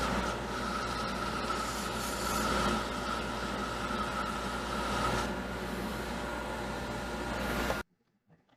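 Sandpaper of 120 grit rubs continuously against a spinning wood turning on a lathe, a close, steady abrasive hiss with a faint motor hum underneath, ending abruptly in near silence.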